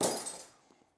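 A piece of stained glass snaps off along a relief cut, giving a sharp close crack with a bright glassy clink that quickly fades into a brief tinkling tail, with no one talking.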